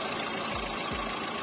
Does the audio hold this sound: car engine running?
yes